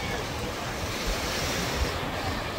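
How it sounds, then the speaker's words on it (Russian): Sea surf rolls steadily onto a crowded beach at Vityazevo, a continuous loud wash of waves mixed with wind buffeting the microphone. "Море здесь прекрасное."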